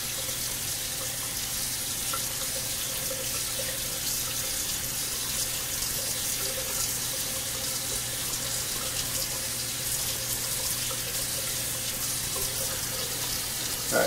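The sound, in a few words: hot water running from tap into shaving scuttle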